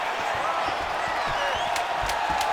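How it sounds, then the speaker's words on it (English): A crowd cheers and applauds continuously in the background of an EA Sports UFC 5 bout between Merab Dvalishvili and Umar Nurmagomedov, with a few sharp slaps and a voice mixed in. "The fighters are back to their feet now, and they can take in the applause"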